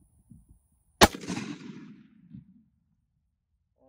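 A single loud rifle shot fired while zeroing a CVLIFE 6-24x50 hunting scope, a sharp crack followed by a rolling echo that fades over about a second and a half, with faint low murmurs just before.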